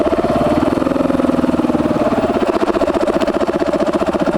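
A motorcycle engine runs in first gear on a gravel trail in Montenegro, giving a steady, close, pulsing putter that stays loud and even throughout with no talk.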